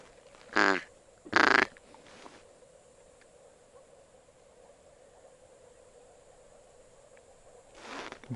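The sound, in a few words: ducks quacking in spring marsh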